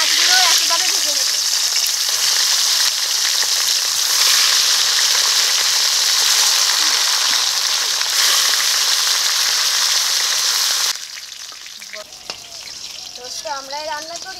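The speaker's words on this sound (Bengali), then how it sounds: "বাকি মাছগুলো একইভাবে ভেজে নেব" Fish sizzling in hot oil, a loud, even crackle lasting most of the clip before it suddenly quiets, leaving faint birdsong and light background noise.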